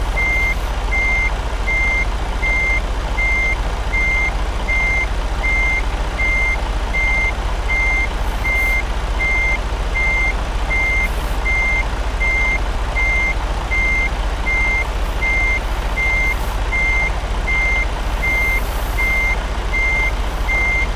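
A Cascadia semi truck hauling anhydrous ammonia backs in between parked trucks, its reversing alarm beeping in a steady, even rhythm throughout over a loud, constant low engine rumble.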